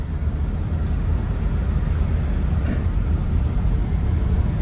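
A very tall truck rolls into a parking garage, its engine a steady, close, low rumble echoing in the enclosed concrete space.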